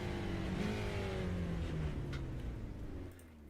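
A Radical SR8 race car's engine in the iRacing sim runs loud and steady, pitch slowly falling as it winds down, then fading near the end.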